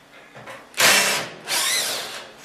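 A power driver fitted with a T20 security bit whines in two loud, sustained bursts while backing screws out of a Danby microwave casing, close and alone with no talk.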